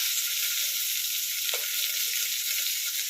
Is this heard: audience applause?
no